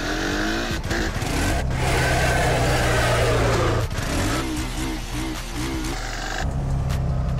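A GS 650 motorcycle engine, heard in a GTA San Andreas-style game setting, revs hard and loud in a sustained roar with brief throttle dips and rises, close and continuous without talk.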